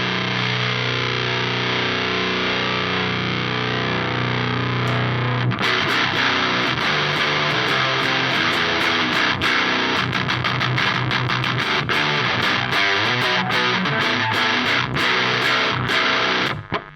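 An electric guitar run through a Meris LVX delay pedal preset with a parametric filter plays a sustained, heavily effected passage, then turns to rapid, dense strummed and picked notes with bright, distorted, modulated repeats, loud and continuous.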